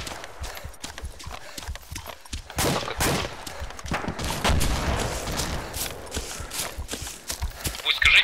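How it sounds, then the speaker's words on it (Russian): Gunfire in the military shooter game ArmA 2 with the ACE mod, shots coming from a hotel as repeated sharp bursts and crackling volleys, heard under tense voices talking over radio. "С отеля стреляют."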